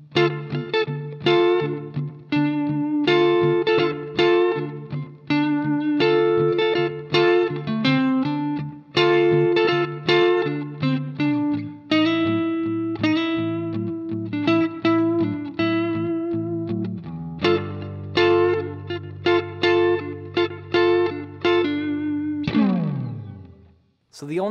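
Electric guitar plays a melody woven with chords, a steady run of plucked notes and strummed chords with effects, held bass notes in the latter part and a closing slide, loud and alone.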